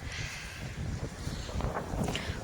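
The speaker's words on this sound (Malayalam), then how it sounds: "നല്ല കാറ്റുണ്ട്" Steady wind in Kodaikanal rushing across the microphone, with a low buffeting rumble that swells and dips throughout. No voices.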